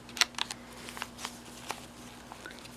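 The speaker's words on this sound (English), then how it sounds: "Use my fancy scissors and then stick it in here." Decorative-edged craft scissors snip through paper for a junk journal, a few quick close cuts at the start followed by soft paper rustling and handling, with no voices.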